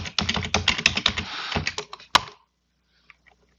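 Rapid clicking keystrokes on a computer keyboard while a password is entered at a Linux terminal, a dense burst of close taps lasting about two seconds, ending with a sharper Enter-key thunk and then near silence.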